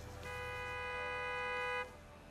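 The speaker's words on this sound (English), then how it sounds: "Out here just honking their horn." A car horn in the Gas Station Simulator video game sounds one steady, loud toot lasting about one and a half seconds, then cuts off abruptly, leaving faint background hum.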